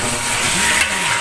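Beef kaldereta stirred in a hot pan, giving a steady close sizzle with soft scraping throughout and no voices.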